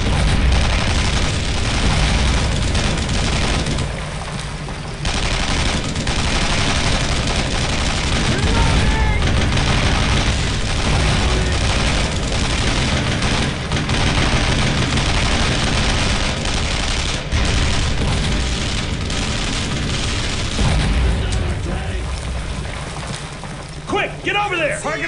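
Heavy gunfire in the World War II game Brothers in Arms: Road to Hill 30, a loud, dense barrage of rifle and machine-gun shots with booms, nearly continuous throughout, with shouted voices mixed in.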